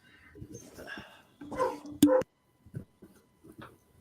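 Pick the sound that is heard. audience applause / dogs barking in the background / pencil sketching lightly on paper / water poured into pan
dogs barking in the background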